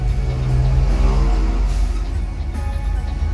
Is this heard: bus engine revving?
yes